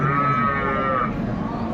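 At the Aftabganj cattle market in Dinajpur, a dairy cow gives a single close, drawn-out moo over murmuring market background noise.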